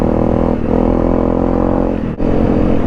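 A Honda Rally 250 off-road motorcycle runs through snow, its engine droning loud and close with a steady low rumble, dipping briefly near the end before picking back up.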